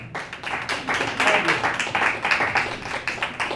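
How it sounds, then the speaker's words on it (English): An audience claps for comedian Ken D at a live show, a dense, steady patter of many hands that swells slightly in the middle and carries on under faint background voices. "Clap for him right now."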